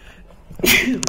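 A single sudden sneeze, close and sharp, preceded by a brief intake of breath.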